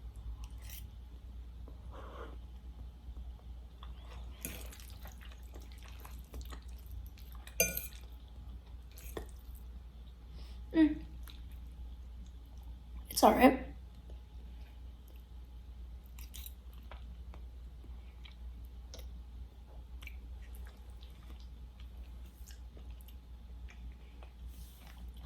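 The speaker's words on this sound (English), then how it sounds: "There will be a lot of mouth noises and chewing throughout this video." Someone close to the mic chews and bites alfredo rice noodles, making a handful of soft, wet crunches and squishy mouth sounds spread out over a quiet background, with a brief spoken remark.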